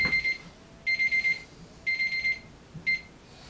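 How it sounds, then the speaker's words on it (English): An alarm clock goes off in short bursts of rapid high beeping, four groups spaced about a second apart, fairly faint over a soft room hiss. "My alarm going off."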